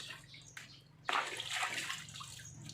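Water splashes and sloshes over a dog being bathed, beginning softly and then swelling into a louder, steady pouring rush that continues to the end.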